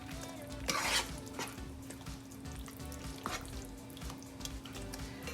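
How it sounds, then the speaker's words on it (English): A dump-and-go casserole mixture stirred in a pan: soft, continuous scraping and squelching with a louder burst of spoon-on-pan scraping near the start, a few later clinks, and a steady low hum underneath. "We're gonna go ahead and stir this up."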